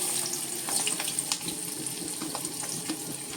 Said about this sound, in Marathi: तेल तापलंय, मिरच्या आणि त्याच्या बरोबरीने आता हा मी कांदा घालतोय.